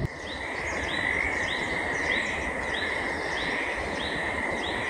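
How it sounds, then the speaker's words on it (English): Frogs in a Pacific Northwest forest under light rain, a chorus of repeated rising croaks at a steady pace over a constant hiss of rain and other calls. "Boy, listen to those frogs go"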